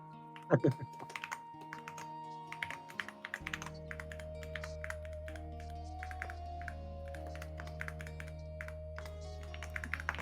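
Someone types on a computer keyboard during a tabletop Dungeons & Dragons session. Rapid, uneven clicks continue for about ten seconds over a steady background hum, after a few louder knocks at the start.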